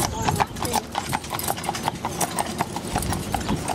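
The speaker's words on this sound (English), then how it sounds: "Oh, look at the horses." Horses clip-clop along at a steady trotting rhythm, loud and close, while people talk over the hoofbeats.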